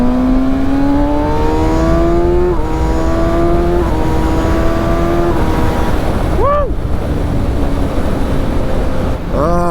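Kawasaki Ninja ZX-6R sport bike riding on the highway, its engine pitch climbing through several gear shifts with steady wind rush, plus a brief rising whine from a passing vehicle.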